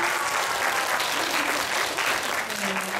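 A church congregation applauding newcomers: dense, steady clapping from many hands filling the room for the whole stretch.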